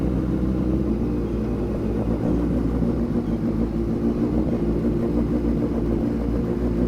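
A Suzuki Hayabusa motorcycle engine runs at low RPM with a close, steady, deep rumble that keeps up evenly throughout with no talking.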